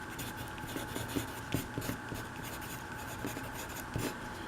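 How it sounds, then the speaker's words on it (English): Pen strokes writing an algebra equation by hand on paper: soft, close scratching and tapping in irregular short bursts over a faint steady background hum, with no speech. "So I'll just write it down again."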